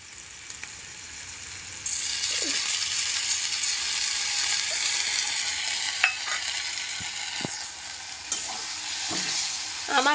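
Tomato sauce hits a home-cooking pan with steady, close sizzling and frying, while a spoon stirs and scrapes in irregular clinks and rattles; the sizzle swells after the first couple of seconds and holds, with no talking.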